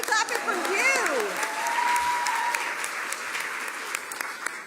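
Audience applause at a campaign event in a Baptist church, sustained crowd clapping at steady strength with a few cheers and whoops over it and a voice briefly speaking underneath.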